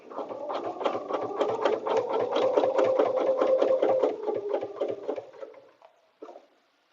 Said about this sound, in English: when I do edge-to-edge quilting, I like to take the design all the way off